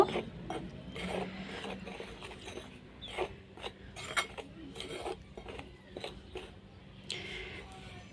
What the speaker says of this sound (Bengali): এর জন্য হাত দিয়ে করছি তেলটাকে ভালো মতো মেশাতে হবে